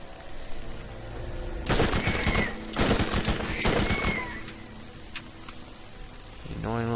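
Gunfire in the shooter game Borderlands, heard as bursts of rapid loud shots in two or three clusters over steady game background noise, with no talking.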